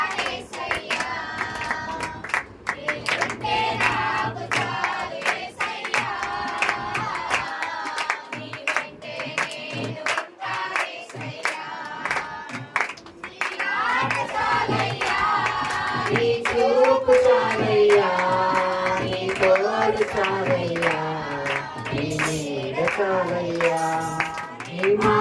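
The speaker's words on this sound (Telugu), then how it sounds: "అందరు చప్పట్లు కొడతా పాడండి. బాధ్యతతో చప్పట్లు కొట్టండి." A church congregation at Sunday worship claps steadily in time with a loud Telugu worship song, the rhythmic hand claps running under continuous singing and band music throughout.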